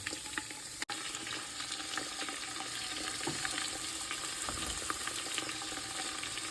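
Potatoes and carrots cook with meat in an Afghan kazan, giving a steady sizzling and frying hiss with small crackles throughout, close and fairly even, with no talk.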